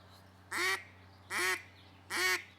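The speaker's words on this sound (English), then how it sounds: "Everything's based on that single quack" Three separate, evenly spaced quacks blown on a duck call, each short and sharp with a clipped ending, coming over a faint steady hum.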